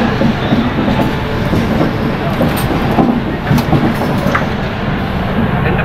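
A Humsafar Express train pulls out of Nagpur station, giving a loud, steady rumble with rhythmic wheel clatter and faint metallic squeals, heard close from inside the moving coach.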